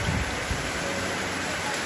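Heavy rain from Typhoon Odette in northern Palawan pours as a steady, dense hiss, with strong wind, holding broad and constant throughout.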